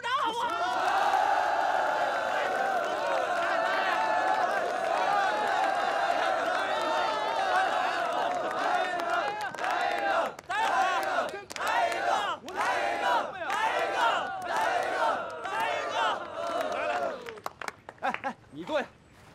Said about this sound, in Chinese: 大家鼓掌好不好？